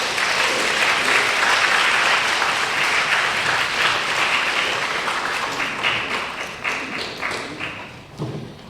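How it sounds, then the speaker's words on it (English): A live audience at an arts festival panel applauds warmly for the panelists, dense steady clapping that stays loud for several seconds, then thins into scattered individual claps near the end. "Let's give them a warm round of applause"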